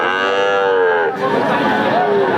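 Native heifer calves at a cattle market give a loud, sustained moo that holds steady for about a second and then drops into a rougher, wavering low call, close to the microphone and without speech.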